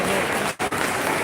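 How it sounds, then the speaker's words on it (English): An audience at an Independence Day celebration gives a round of applause, a loud, dense wash of clapping with a brief dip partway through. "Can we have a huge round of applause for them"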